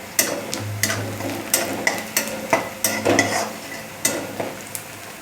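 Onion frying in a pan for a batata bhaji, with a steady low sizzle under repeated sharp scrapes and taps of a spoon stirring against the pan, close and clear, with no talk.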